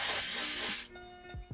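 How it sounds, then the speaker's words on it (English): Hair refresher spray hisses in one steady, close burst onto a hair parting, then cuts off, leaving faint rubbing sounds. "I'm gonna spray it in my parting and you just rub it like this."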